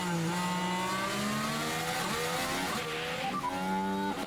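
Race cars in an Abu Dhabi Grand Prix racing video game roar past one another on track, with layered engine tones shifting pitch continuously and loudly throughout, no talking.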